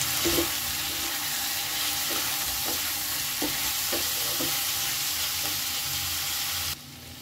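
Spoonfuls of coriander powder and chili powder stirred into frying food for yakhni pulao, a steady close sizzle with repeated soft scraping strokes of a spoon against the pan, no voices.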